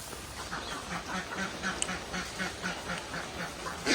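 Two domestic ducks quack in a steady, evenly spaced series of nasal calls, moderately close, over a background of falling rain with no talking.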